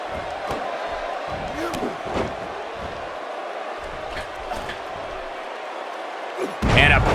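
Arena crowd in the WWE 2K18 wrestling game, a steady, busy roar of cheering held under commentators' talk, with a few sharp impact thuds and a louder swell at the end.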